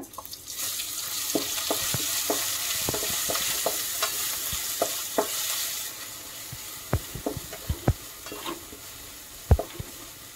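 Shahjeera and ginger-garlic paste fry in a pan with a steady close sizzle that softens partway through. A spoon taps and scrapes the pan repeatedly at irregular intervals, and there is no talk.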